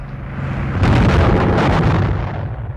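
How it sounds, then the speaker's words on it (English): Anti-tank guns firing at point-blank range in a 1946 war film battle scene, heard as a loud sustained roar of heavy overlapping blasts and rumble. "A few remaining anti-tank guns fight them off at point-blank range."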